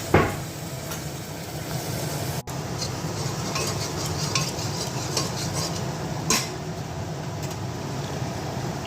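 Fried onions with garam masala and bay leaf cook in a pot for a thin mutton curry; a utensil scrapes and clinks against the metal over a soft, continuous sizzle, with one sharp knock near the start.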